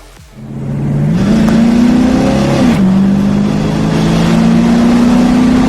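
The engine of a 1970 Oldsmobile Cutlass Rallye 350 muscle car revs up loud and close, climbing in pitch, dipping briefly, then holding a steady high roar to the end.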